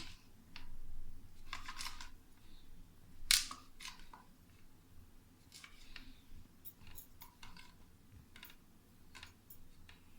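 Knife cutting the crust edges off slices of bread for a bread halwa, a series of faint scraping and crunching cuts, close and quiet, without talk.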